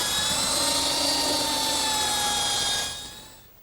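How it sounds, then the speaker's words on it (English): A belt sander works over two wooden bench members clamped together in a vise, a steady high-pitched motor whine with a broad abrasive hiss that holds loud and close, then spins down and fades near the end. "I can use my belt sander. And I've clamped both of the members in the vise, and I'll just sand them together nice and smooth."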